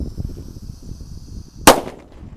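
A single sharp bang from a firecracker set off inside a water gallon, one sudden loud crack after a stretch of quiet background rumble, with a brief decaying tail and no talk.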